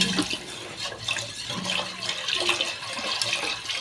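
Milk poured into a flour-and-butter roux for macaroni béchamel, a continuous liquid pouring and splashing sound at close range with faint sizzling, steady for several seconds with no talking.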